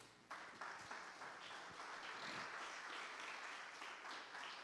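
A church congregation claps at a preacher's call to praise the Lord, a soft, distant, even patter of many hands that starts abruptly and holds steady to the end.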